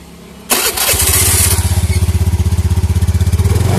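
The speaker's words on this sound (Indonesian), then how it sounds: "Coba saja, ntar nyalakan motornya." Motorcycle engine started to turn a homemade mini generator lighting a car bulb: a sharp starter burst, then the engine catches and settles into a loud, close, rapid steady idle pulse.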